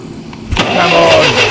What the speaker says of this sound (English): Love that old starter motor.